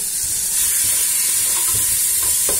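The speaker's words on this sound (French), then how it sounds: "Maintenant, je vais mettre l'oignon et la tomate. Et je vais laisser aussi rissoler" Onion and tomato browning in a pan, giving a loud, continuous hissing sizzle with a few faint knocks from stirring through it.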